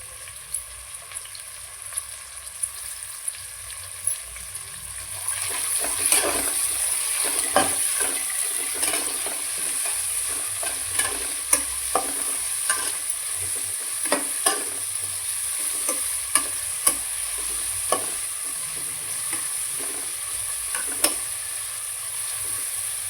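Onions for soya biryani fry and get stirred in a pan, a continuous close sizzle broken by regular sharp spatula scrapes and clicks against the vessel, with no speech.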